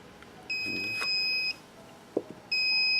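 Two steady high-pitched electronic tones from a portable HIFU machine, each held about a second, with a short gap of quiet rustling and a faint click between them.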